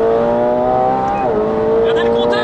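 A McLaren 720S sports car accelerates hard on the autobahn, its loud, steady engine roar climbing in pitch, briefly dipping at a gear change midway, then pulling strongly again.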